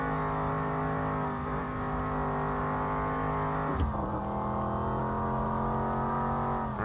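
A truck driving on a track in the Mon Bazou video game, a steady droning engine hum at constant revs with a brief dip and shift in pitch midway, loud and continuous.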